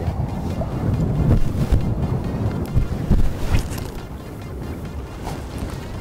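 Strong seaside wind buffets the microphone in continuous heavy gusts, loud low rumbling that surges early and settles slightly toward the end, with faint wave-like wash beneath.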